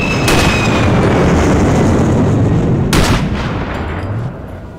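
Loud sniper rifle shots in the Sniper Ghost Warrior game, two sharp cracks about three seconds apart, each trailing off over a thick, steady low rumble of ambience.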